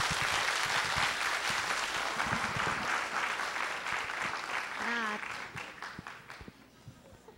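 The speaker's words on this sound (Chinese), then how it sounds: "那刚刚这么热烈的掌声" Warm, sustained applause from a conference audience after a doctor's talk at a 2011 international medical gathering, a dense wash of clapping that gradually thins and fades toward the end, with some voices mixed in.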